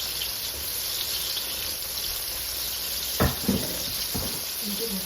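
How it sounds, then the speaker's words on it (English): Pork chops frying low in a pan make a steady, hissing sizzle under the whole stretch, with a couple of brief clinks or scrapes of utensils near the end. "I'm gonna let these fry. I'll fry kind of low because you don't want to cook too fast"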